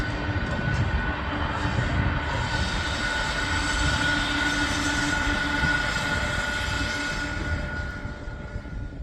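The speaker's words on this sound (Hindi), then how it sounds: "पूरा का पूरा एसी का ट्रेन है।" An air-conditioned passenger train rolls past on the Bhor Ghat line, its wheels and coaches making a steady, loud rumble with a faint squeal that holds for the whole stretch and eases slightly at the end.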